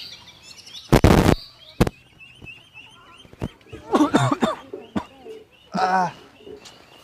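Someone nearby coughs in several harsh bursts spread across a few seconds, with brief throaty sounds between them.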